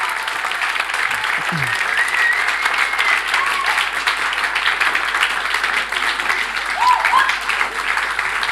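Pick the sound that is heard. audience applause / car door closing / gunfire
audience applause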